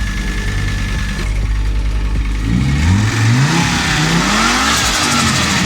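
Five-cylinder car engine with a freshly repaired exhaust, idling with a loud low burble and then revving up in several rising sweeps that fall back, close and clear with no talk.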